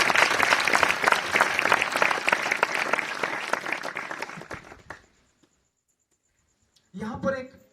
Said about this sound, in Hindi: जोरदार ताली परमेश्वर के नाम को